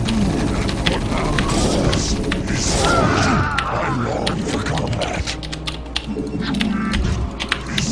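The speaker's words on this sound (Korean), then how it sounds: "키보드 청축입니다. 예, 레오폴드 FC700R 청축." Rapid clicky typing on a Leopold FC700R mechanical keyboard with blue switches, loud and close, a dense continuous patter of keystrokes running throughout with occasional heavier thuds.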